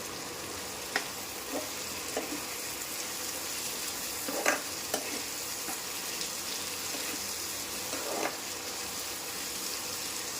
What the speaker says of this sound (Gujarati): પાય પાય હલાવતા જવાનો ચમચો એમાં હિંગ નાખી દો